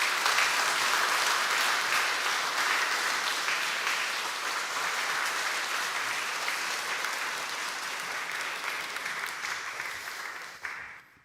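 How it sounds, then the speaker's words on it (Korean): A church congregation claps together in encouragement, a dense sustained applause that slowly thins and stops abruptly. "여러분 격려의 박수 한번 해주시기"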